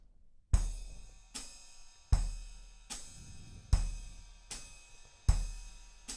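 Drum ostinato of walking feet, bass drum pulsing with the hi-hat foot, under a right-hand ride cymbal: steady, evenly spaced low thumps with ringing cymbal strokes, played alone at a moderate, quiet level.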